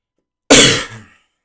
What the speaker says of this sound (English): Shit, I'm coughing.